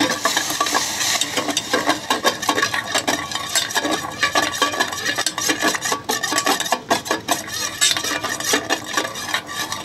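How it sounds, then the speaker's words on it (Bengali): A spoon stirs and scrapes caramel in a pan over a low flame for a carrot and egg pudding, making busy, close, rasping strokes with a faint sizzle underneath. "বন্ধুরা আমি ক্যারামেলটা চুলার আঁচটা কমিয়ে তৈরি করে নিচ্ছি।"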